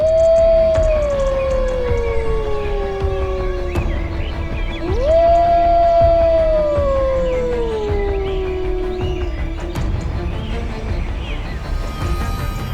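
A wild wolf or coyote howls twice in long, sliding, mournful notes that rise and then slowly fall, carrying clearly over a steady outdoor background hum.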